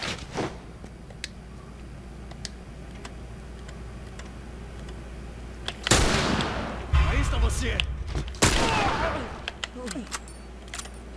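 Several loud gunshots in The Last of Us Remastered crack out in quick succession after a quiet stretch, each one a sharp, booming burst over faint game ambience with brief talk between them.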